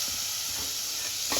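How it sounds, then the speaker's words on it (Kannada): Chopped tomatoes fry in a hot pan while cooking Karnataka bisi bele bath, a soft steady sizzle and hiss with faint stirring scrapes, quiet and without talk. "ಇವಾಗ ಟೊಮೊಟೊ ಹಾಕ್ತಾಯಿದ್ದೀನಿ."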